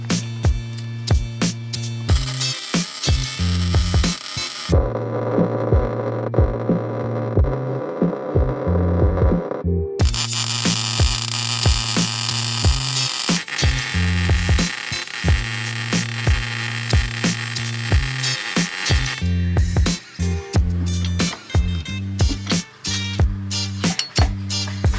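Arc welding on the frame of a Mercedes G Wagon that failed inspection, heard as sharp buzzing bursts with brief pauses, close and loud, with a steady low hum underneath and no talk.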